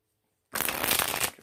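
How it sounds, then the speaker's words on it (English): Tarot cards are shuffled in a close, loud riffling burst that starts abruptly after silence and runs for about a second. "So I will get shuffling to the cards right now."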